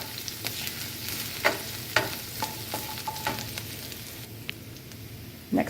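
Ground chicken cooking slowly in a pan with a steady close sizzle, punctuated by several sharp scrapes and clacks of stirring.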